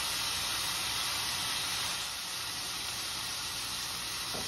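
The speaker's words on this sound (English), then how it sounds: "we've been letting them sear for about a minute on each side, so now we're just gonna be flipping each cube" Beef steak cubes sear in a hot pan with a steady, dense sizzle and hiss throughout, close and moderately loud, with no voices.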